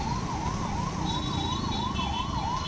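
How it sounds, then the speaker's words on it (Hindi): A fire brigade truck's siren wails in a steady rising-and-falling pattern, fairly close and loud, over the rumble of street traffic in Jaipur's old city. "और ये फायर ब्रिगेड जा रही है,"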